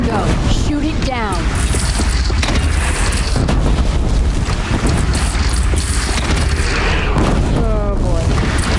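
A bridge is shot down and collapses in Horizon Zero Dawn, a loud sustained rumbling roar with booming crashes and windy debris noise filling the whole stretch, with voices speaking over it.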